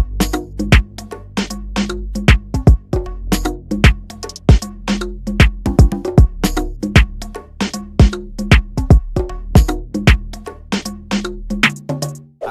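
Deep sliding 808 bass notes pulse under a busy trap beat with crisp hi-hats and snappy drums, looping steadily at a loud level.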